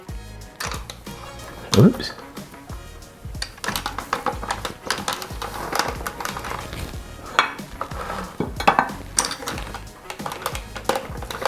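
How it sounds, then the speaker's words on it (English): Zucchini cranked through a spiralizer into spaghetti-like strands, giving a busy run of clicking, scraping crunches with a sharp clatter near the start, under a speaking voice. "Then you just spiral it out and you make spaghetti strings."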